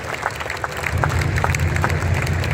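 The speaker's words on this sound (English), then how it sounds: "we'd like to give them a nice big round of applause as a group" A seated audience gives a group of visiting drivers a sustained round of applause, dense overlapping claps at steady loudness with a low rumble of crowd noise beneath, no voices standing out.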